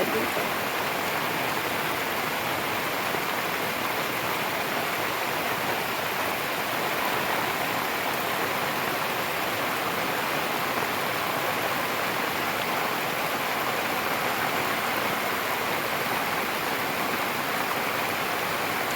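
Steady, dense roar of heavy rain, broadband and unbroken for the whole stretch, with no voices.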